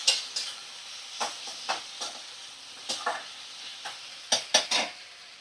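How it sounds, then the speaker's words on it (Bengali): Spice paste with ground cumin fries on a low flame while a utensil stirs it around the pan, giving a soft steady sizzle broken by repeated scraping strokes, close and clear with no talking. "তো ফ্লেমটা একটু লো ফ্লেমে করে ভালো করে মশলা কষিয়ে নেব"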